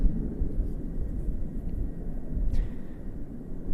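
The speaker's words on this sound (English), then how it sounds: "lining up on the runway from the right hand side is the Airbus A319OH from the Executive Transport Wing of the German Air Force" A German Air Force Airbus A319OH of the Executive Transport Wing lines up on the runway, heard as a steady, distant jet engine rumble blended with wind.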